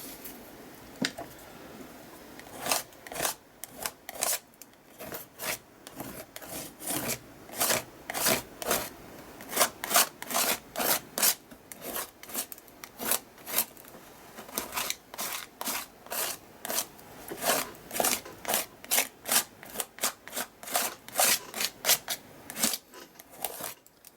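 Magenta paint scraped across a canvas background, heard as a long run of close, dry rasping strokes in an irregular rhythm, each stroke a short sharp scrape with brief gaps between.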